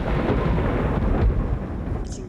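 Thunder rumbling through a storm in the Alps, a heavy, continuous low roar close by that rolls without a break and eases slightly toward the end.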